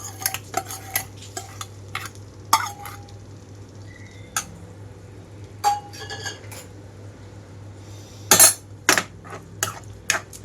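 A spoon stirs tempering into amaranth leaf and brinjal curry, scraping inside a metal pan with intermittent clinks and taps over a steady low hum.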